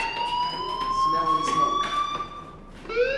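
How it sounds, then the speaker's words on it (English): A fire alarm in the video game Life Is Strange sounds with a steady high electronic tone, continuous and fairly loud, with some indistinct background noise layered underneath. "do you hear that fire alarm?"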